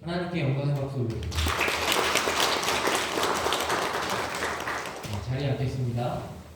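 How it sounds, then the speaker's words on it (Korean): A church congregation bursts into loud applause during a Sunday Lent service, many hands clapping for several seconds between spoken words from a voice that talks before and after. "하나님께 영광의 박수 올립니다."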